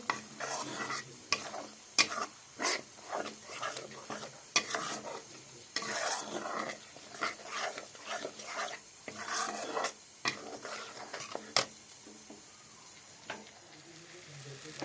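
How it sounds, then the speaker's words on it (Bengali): Paste spices with a spoonful of turmeric are sautéed in a pan for a Bengali rui fish chochchori, a soft sizzle broken by repeated sharp scraping stirs of a spatula at an uneven rhythm. "এক চামচ হলুদ হলুদ দিয়েছে এখন কষিয়ে নেব মশলাগুলো একসাথে"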